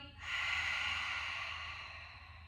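A single deep inhale through the nose while lying in a bridge exercise, a close, loud breath that starts abruptly and fades slowly over about two seconds.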